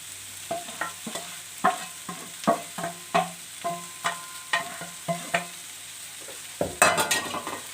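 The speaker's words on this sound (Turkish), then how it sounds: "Güzel bir soğanı sote yaptık. Ve kabaklarımızı da ekliyoruz." Zucchini stirred into sautéed onions in a pan produces a rhythmic series of spoon scrapes and taps over a soft sizzle, followed near the end by a louder burst of frying as the pieces go in.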